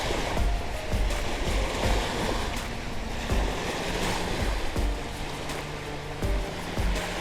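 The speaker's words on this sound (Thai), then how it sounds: "คลื่นทะเลที่นี่ก็ กำลังพอดีนะคะ ไม่แรงมาก" Moderate sea waves roll onto Wongamat Naklua beach in Pattaya, the surf washing in broad repeated surges under wind rumble on the microphone, with low motor-like hums in the background and no voices.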